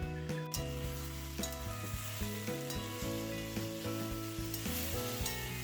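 A covered pan of tomato and spice curry sizzles and bubbles softly and steadily, faint and close, with occasional low stirring scrapes.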